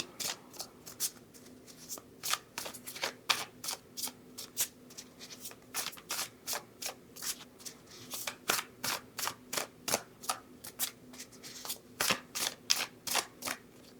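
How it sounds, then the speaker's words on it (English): Tarot cards riffled and shuffled over and over in a long, steady run of crisp, rapid flutters, close by with no talking. "that was a long shuffle"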